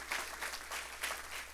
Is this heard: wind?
no